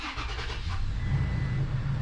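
A Toyota Tacoma engine cranks briefly and then fires up, settling into a loud, steady, close idle rumble with no talking.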